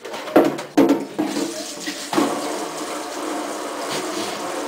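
Running water rinses out a tarantula enclosure after the old substrate has been vacuumed away, a steady splashing flow with a few sharper bursts near the start and no voices.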